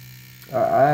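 Dragonhawk Extreme 2 tattoo machine switches on partway through, settling into a close, steady electric buzz that lasts about half a second.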